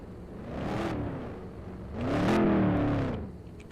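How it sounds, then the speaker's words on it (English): Race car engines at a speedway rumble and rev in two swelling bursts, the second louder and longer, with a steady idling drone between them. "Alright, everyone turn your cars off"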